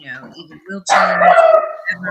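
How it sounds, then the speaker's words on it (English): A dog barks loudly, one sharp bark following brief talk and then a longer howling yelp, with people speaking around it. "That's my dog."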